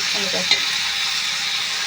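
Chicken with turmeric, salt and chili powder frying in a pan for a mango chicken curry, giving a steady close sizzle with one brief clink of the stirring spoon early on.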